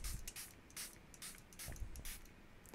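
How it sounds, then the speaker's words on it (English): Green colour mixture of water and glycerin sprayed onto wafer paper with a hand spray bottle, several short hissing bursts in a quiet room. "I'm going to spray this"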